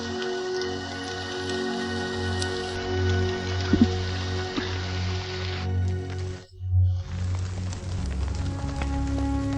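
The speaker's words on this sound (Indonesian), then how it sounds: "Hujan mulai turun begitu kita meninggalkan ibu kota." Steady rain falling on the way out of a capital city, a dense even hiss with a low hum underneath, briefly dropping out near the middle before resuming.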